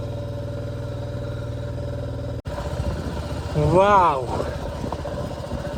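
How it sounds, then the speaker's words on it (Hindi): A motorcycle engine labours steadily up a steep high-altitude mountain road in Ladakh, a constant mid-pitched drone with a brief cutout, then a rising whine under a voice speaking. "चढ़ाई चढ़ते टाइम आप इंजन की आवाज़ से पता लगा सकते हैं कितना ज़ोर लग रहा है।"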